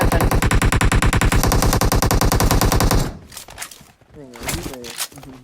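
Rapid automatic gunfire in PUBG Mobile on the Erangel map, a loud continuous burst of shots lasting about three seconds, then a stop, followed by scattered footsteps and game sounds with a voice talking over them.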